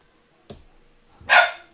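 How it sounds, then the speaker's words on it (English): Dogs bark nearby in a house, one short sharp bark followed a moment later by a louder, fuller bark, with quiet in between and no talk. "Oh, and the dogs are going off now."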